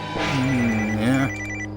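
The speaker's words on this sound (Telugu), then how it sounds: "ఇలా వచ్చిందండి ఫోన్" A single electronic phone ring tone sounds for about a second over a steady background hum, then cuts off.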